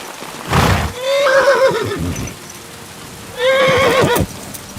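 Two loud, close horse whinnies in Kingdom Come Deliverance II, each a rising, wavering neigh, separated by a short pause, with faint hoof clops and light rain in the background.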